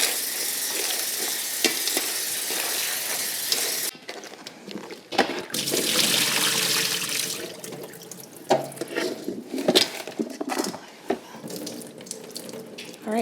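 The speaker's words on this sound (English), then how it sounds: "I'm just gonna go ahead and fill this bowl up with water." Tap water runs steadily into a bowl in a home kitchen while baking a cake, a loud close hissing stream that shifts in tone as the bowl fills, with clinks and splashes later on.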